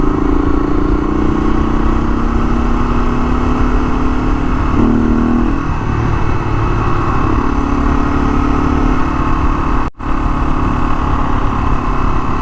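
A Honda XL500 motorcycle is ridden at a steady, loud, close engine drone with a constant rumble and a slight pitch shift midway, plus a brief dropout near the end.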